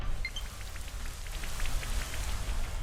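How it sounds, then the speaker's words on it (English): Rain effect from the Rain Dance move in a Pokémon video game battle, a steady hiss of falling rain with scattered drop ticks, continuous and moderately loud with no voices. "Okay, so Rain Dance comes up."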